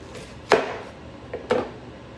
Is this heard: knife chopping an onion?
yes